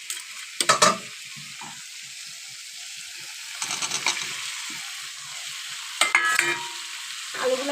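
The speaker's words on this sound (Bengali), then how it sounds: "এবার দিয়ে দিব আলু।" Potatoes tossed into frying spices in a pan produce a soft continuous sizzle broken by several louder bursts of scraping and stirring, spaced a few seconds apart, with no one talking.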